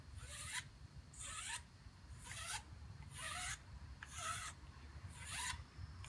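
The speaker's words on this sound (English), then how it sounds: "So we're going to take a file, file down the edges." Six rhythmic rasping strokes of a hand file scrape the edges of a PVC hydroponic bucket, each stroke short and close with quiet pauses between.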